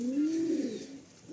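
A breeding pigeon, a strong summer flier, gives one drawn-out low coo with a rising and falling contour, close and clear, with no speech.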